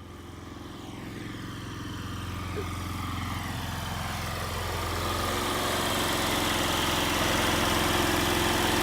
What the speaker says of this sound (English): I got the generator running